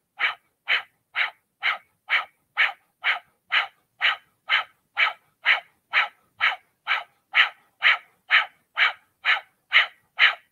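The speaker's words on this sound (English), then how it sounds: "begin your breath of fire" Breath of fire in a Kundalini yoga flow: rapid, forceful nasal exhales repeat in an even, quick rhythm about twice per second, close and steady, with no talking.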